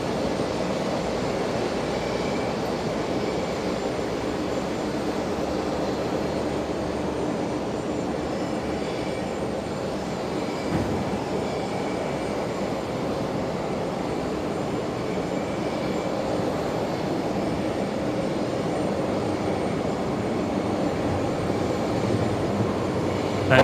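A Rex Saab turboprop airliner at Brisbane Airport, back from Roma, gives a distant, steady propeller-engine drone that holds at a faint, even level over the whole stretch with ambient outdoor noise.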